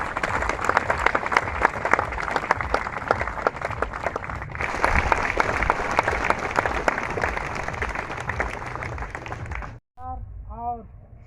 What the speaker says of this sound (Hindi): एक जोरदार ताली के माध्यम सभे मान के स्वागत